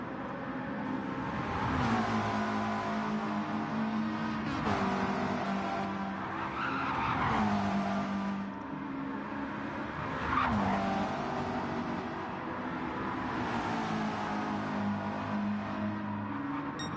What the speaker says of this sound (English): As Flapjack getting a bit of a slide through there.